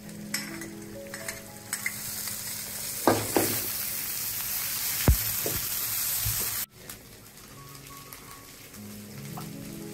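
A ginger-cumin paste sizzles and fries with onions in a pan, a steady crackle with a few clinks and stirring scrapes, then a brief drop and a quieter sizzle continuing.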